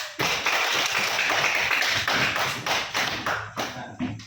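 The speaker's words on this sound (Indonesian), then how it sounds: "Ya, kita kali tepuk tangan." A class of students claps hands in a classroom lesson, a burst of close, sharp claps that starts abruptly, holds steady, then thins into separate uneven claps near the end.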